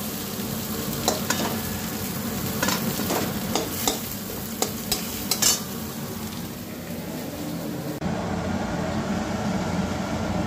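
Food frying in a pan with a steady close sizzle while a utensil scrapes and clinks against the metal in irregular strokes, no voices, the sizzle continuing alone after the stirring stops.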